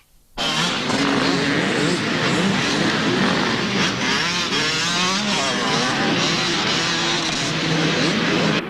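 Four-stroke clubman-class motorcycles race at Maeshafn on a muddy course, engines roaring loud and close, rising and falling in pitch as several bikes rev and pass continuously, with no talk over them.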